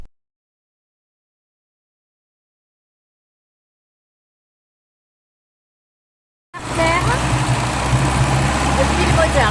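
A P60 car with a Rush 6 hp engine idling, a steady low mechanical rumble that starts abruptly after a long silence and runs loud and close to the end.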